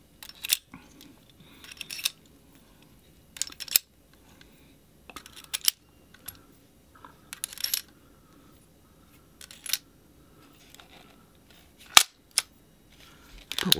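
A Kokusai metal model gun, an M29 revolver, fires genuine cartridges in a string of quiet, sharp cracks and metallic clicks spaced a second or two apart, with faint handling noise in between.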